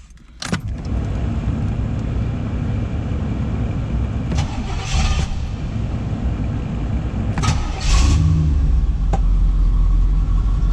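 A 1990 Pontiac Firebird Trans Am GTA WS6 catches after a short crank and a jingle of keys, then settles into a steady nearby idle, with brief blowing bursts from the AC fan.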